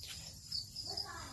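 Crickets in a cricket-breeding enclosure give a steady high chirping trill close by, continuous through the short stretch against a low background rumble.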